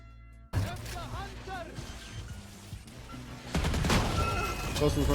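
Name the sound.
gunfire in a shooter video game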